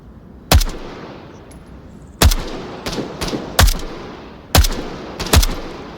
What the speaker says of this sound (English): It's not advisable to shoot this on full auto range.